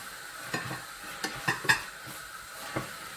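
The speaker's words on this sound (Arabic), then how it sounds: "فوالا هكذا بعد ما تقلاو شويه نضيف عليهم الطماطم" Meat frying in a pan, a soft background sizzle punctuated by a few sharp scrapes and clinks of a utensil against the metal, brief and close, with no talking.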